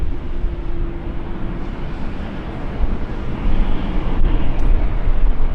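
KLM Cargo plane operated by Martinair taxiing at Schiphol in fog: a steady, loud low jet rumble and broadband roar that swells slightly toward the end, with no voices.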